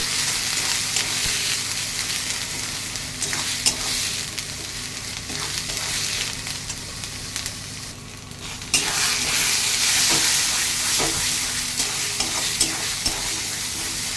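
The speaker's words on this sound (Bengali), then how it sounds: "একটু সময় নিয়ে নাড়াতে হবে।" Kharkol leaves fry in a pan with a continuous sizzle while a utensil stirs them, giving scattered scraping taps over the steady hiss, close and unbroken by speech.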